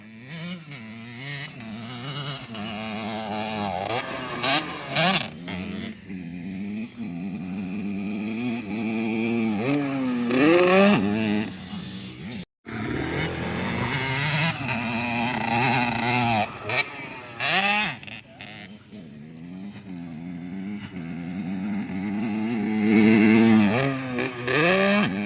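A dirt bike revs hard on its run-up to a jump over a car, the engine pitch climbing and falling in repeated loud surges with a brief cut midway.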